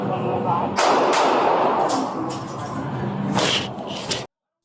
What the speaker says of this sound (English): The moment the gunshots echo through the platform, everything changes.